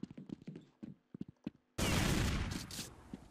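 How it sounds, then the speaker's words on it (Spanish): A sudden burst of Counter Strike 1.6 gunfire erupts partway through, loud and dense after a stretch of quieter clicks and footsteps, then continues with rattling shots. "cuidado que hay disparos"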